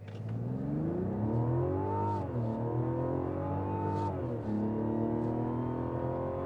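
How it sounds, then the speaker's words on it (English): A 2024 Mazda CX-90 Turbo Premium Plus launches from a standstill, its engine climbing loudly in pitch through a couple of gear shifts, heard close and steady with no talking. "give it some gas, and dump the brake."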